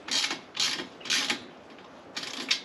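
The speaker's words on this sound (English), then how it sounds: "we'll take our half inch ratchet" A half-inch ratchet tightens a bolt on a steel garden utility cart, giving four bursts of quick, close clicking separated by short pauses.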